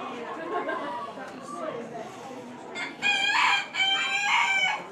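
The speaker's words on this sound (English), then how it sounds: "Taking a video of the roosters." Roosters crow loudly and close at a county fair poultry barn in Maine, two long crows in quick succession after a stretch of clucking and background chatter, with people talking nearby.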